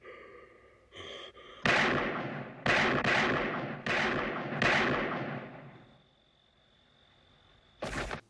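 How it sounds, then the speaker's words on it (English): Six sharp, loud revolver shots from a Smith & Wesson Model 15 in a Halloween film scene, fired in a quick, evenly spaced sequence with short decays, followed by a quiet lingering tone and a final sharp burst. "Loomis fires all 6 shots into Michael's chest."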